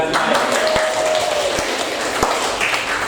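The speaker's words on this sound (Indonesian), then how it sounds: "Oke, tepuk tangan semuanya." Children clapping their hands together in a classroom, a steady crowd of small claps, fairly close, with a faint held voice tone and a few sharper taps breaking through.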